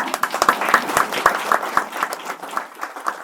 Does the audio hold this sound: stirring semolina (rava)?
no